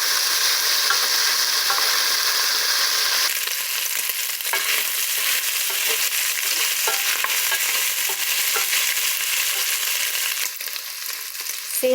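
Onion and garlic frying with meat in a pan, giving a loud, continuous sizzle with light scrapes and clicks of stirring scattered through it.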